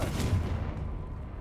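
A Confringo blasting spell cast in Hogwarts Legacy bursts as one loud, boomy explosive impact that quickly decays into a rumbling tail, heard alone.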